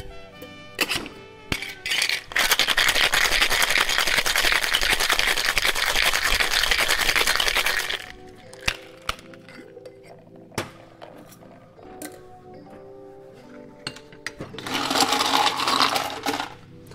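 Ice rattles hard and continuously in a cocktail shaker as a Navy Grog with Demerara rum is shaken for several seconds, followed by scattered clinks and a second, shorter burst of shaking.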